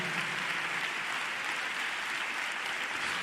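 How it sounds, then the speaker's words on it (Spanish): A church congregation applauds for the Lord in steady, dense clapping that fills the space evenly throughout, with no voices rising above it. "Un aplauso"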